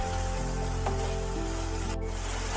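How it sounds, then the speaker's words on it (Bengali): Banana flower (mocha) frying in a pan with green chillies, giving a steady, close hiss of sizzling oil throughout with no voices. "মোচাটা ভালোভাবে কষিয়ে নিয়ে"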